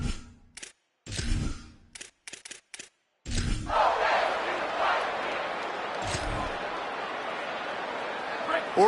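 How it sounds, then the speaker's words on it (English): A home crowd at a college football stadium roars in a sustained, loud wall of cheering, preceded by short bursts of voices and noise with gaps of silence between them. "Yeah, this crowd's been jacked up."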